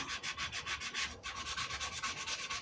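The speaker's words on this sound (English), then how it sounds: "Or get the power sander out, really take it to it." A power sander works over the wood of a Les Paul guitar body, a steady rapid rasping grind pulsing in even waves, close and fairly quiet, with no voices.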